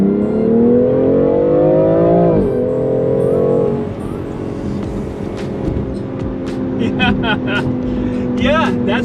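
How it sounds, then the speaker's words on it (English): A BMW X3 M Competition SUV accelerates hard up an on-ramp, its engine note rising steadily through a gear, dropping at a shift, then holding a strong drone from inside the cabin, with faint clicks and ticks over the end. "That was really what I would consider kind of moderate acceleration"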